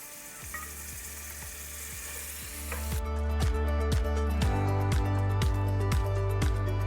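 Chopped tomatoes hit a hot pot and sizzle, a frying hiss that swells and grows louder partway through, overlaid by a regular mechanical ticking and whirring, with no talk.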